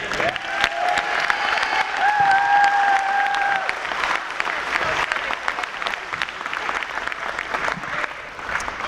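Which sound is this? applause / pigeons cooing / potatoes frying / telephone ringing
applause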